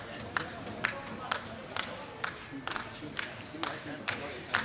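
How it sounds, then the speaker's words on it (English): Teammates cheer from the dugout at a baseball game, with a steady run of sharp claps about twice a second over a continuous crowd murmur at moderate distance. "Big at-bat as the teammates are cheering for him"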